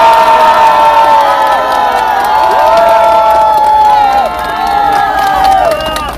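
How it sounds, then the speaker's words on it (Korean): A crowd at a political rally cheers and claps loudly, with continuous shouting and whooping voices over sustained applause, close and dense throughout. "힘차게 한번 박수로 모셔보겠습니다"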